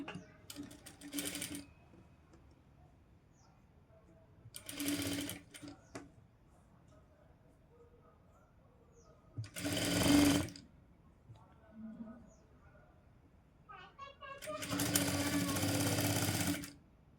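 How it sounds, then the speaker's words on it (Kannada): A sewing machine stitches the neck of a golden blouse in four separate runs of rapid mechanical whirring, close and loud, with quiet pauses between them. "ಸೊ ಹಾಗಾಗಿ ಇಲ್ಲಿ ಸೆಂಟ್ರಿಗೊಂದು ನಾನು ಸ್ಟಿಚ್ ಹಾಕೋತೀನಿ"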